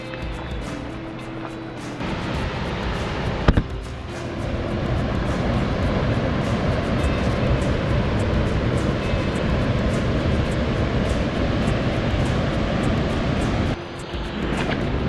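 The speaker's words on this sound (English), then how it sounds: "I hear a waterfall" A steady, broadband rush of falling water fills the scene, growing louder and holding constant, with a brief knock near the start.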